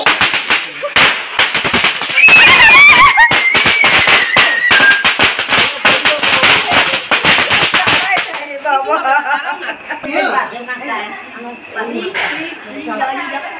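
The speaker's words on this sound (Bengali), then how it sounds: "মেশো কোন উপলক্ষে ফুটানো হচ্ছে বাজি?" A long string of Diwali firecrackers pops in rapid, loud, close bursts for several seconds, then stops and people talk.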